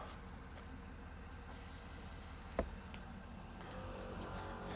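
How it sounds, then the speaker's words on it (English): The air suspension compressor of a Kelderman air ride kit on a Ford F-450 Platinum runs as a steady, low mechanical hum and rumble. It has a single sharp clank partway through and no talk. "You hear the compressor running."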